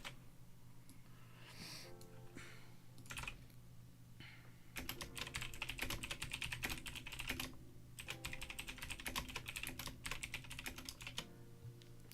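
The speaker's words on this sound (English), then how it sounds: "this dude typing is loud" Typing on a computer keyboard, loud and close: a sparse few taps at first, then dense rapid clatter of keystrokes that pauses briefly and resumes, no voices.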